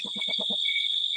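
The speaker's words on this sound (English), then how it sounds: "what you're hearing now are crickets, whose chirps contain encoded messages that convey life or death information" Crickets chirping in a recording, a steady high continuous trill running throughout, with a quick rhythmic train of five low pulses at the start.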